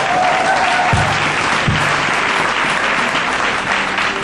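A church congregation applauds in a steady, dense wash of clapping that fills the whole stretch, loud and close, with no break in the sound.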